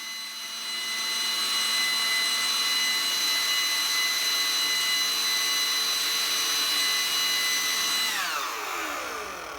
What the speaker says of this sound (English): me using the Ryobi blower around the yard and in the garage